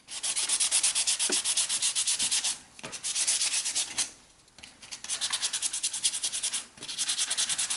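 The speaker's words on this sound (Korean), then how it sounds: "일단 사포질을 천방짜리로 조금 해주도록 하겠습니다" Rapid back-and-forth strokes of 1000-grit sandpaper on a Tamiya Mini 4WD model car rasp steadily, with a few short pauses between runs. The scratching is loud and close, with no voices.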